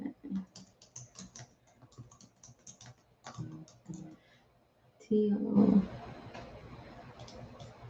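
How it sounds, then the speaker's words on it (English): Quick bursts of typing on a computer keyboard give light rhythmic clicking close up, with a person talking in between. "Oh, gosh, my typing."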